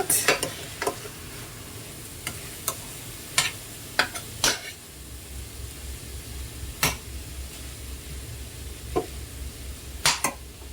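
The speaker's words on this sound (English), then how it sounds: "It's just browning them a little bit, if possible." Chicken browns in a skillet over medium heat with a low, steady sizzle, punctuated by scattered sharp clicks and scrapes of a utensil against the pan.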